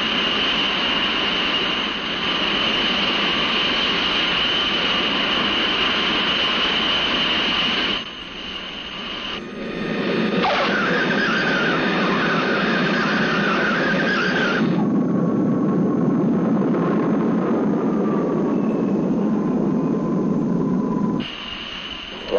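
A United airliner landing at Los Angeles, heard as a loud, steady jet engine roar with a high whine, shifting in tone as it passes and changes power, with no voices.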